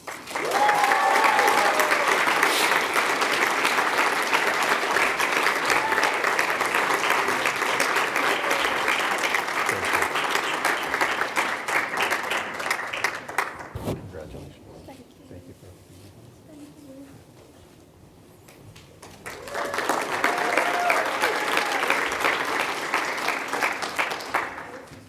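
Audience applause for an Outstanding Senior Award recipient at a student leadership awards ceremony: dense, sustained clapping from a large room that fades to a near lull mid-clip, then swells loudly again.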